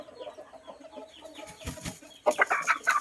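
A Thai game fowl hen that has just finished laying clucks nearby in short, irregular calls, with a louder cluster of clucks toward the end.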